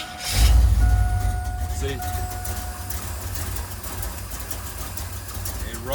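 Carbureted V8 engine in a Chevy S10 truck idling rough and missing after startup, a loud close rumble with uneven low pulses, a brief word spoken over it.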